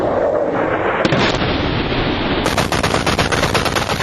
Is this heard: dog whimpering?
no